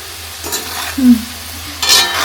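Small potatoes frying in a pan, a loud sizzle rising and falling as they are stirred, with a couple of sharp scraping bursts near the end.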